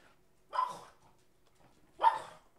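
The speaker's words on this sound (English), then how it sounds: "that's the dog randomly barking for no apparent reason" A dog gives two separate barks about a second and a half apart, each a short, fairly loud burst against a quiet background with no talk.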